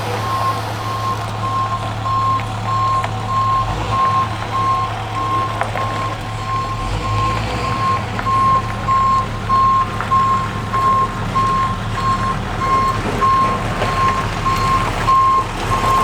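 Trucks delivering stone back up at a log cabin renovation site, their reversing alarms beeping in a steady repeating pattern over a low diesel engine rumble, fairly loud and continuous.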